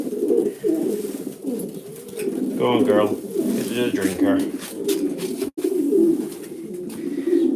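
Racing pigeon landing at its loft, giving soft throaty coos close by while someone talks encouragingly over the bird sounds, with faint outdoor background.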